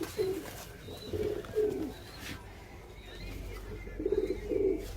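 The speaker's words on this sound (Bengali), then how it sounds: "এই দেখুন বন্ধুরা, এই কালসিরা পায়রা ওড়াবে।" Kalsira pigeons in a loft give several low, rolling coos in two bursts, close and moderately loud over a dull background hum, with faint higher chirps in between.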